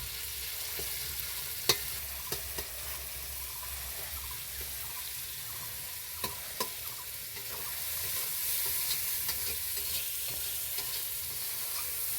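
Meat is stirred with spices in a wok over a wood-fired clay stove, giving a low, steady sizzle. Occasional faint scrapes and clicks from the stirring sit over a constant hiss.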